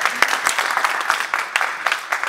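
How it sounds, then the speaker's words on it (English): An audience at a conference claps for the district chair, a short burst of steady, moderately loud clapping with individual hand claps standing out. "Please clap for my"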